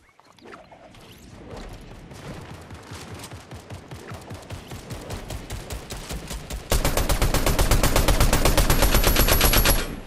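Rapid automatic gunfire in a video game, a long rattling burst of evenly spaced shots that grows denser and louder, ending in a sustained, very loud stream of fire.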